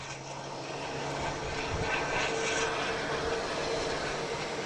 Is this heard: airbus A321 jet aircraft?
yes